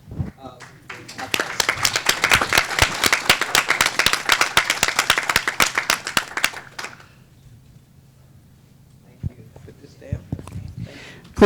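Audience applause for Congresswoman Sheila Jackson Lee at a Black Maternal Health Summit: dense, loud clapping for about seven seconds, then fading out, leaving quieter room noise with a few scattered sounds.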